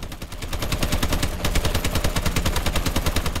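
Rapid automatic gunfire from a weapon in a video game, an evenly spaced stream of sharp shots with a brief hitch near the middle before continuing steadily.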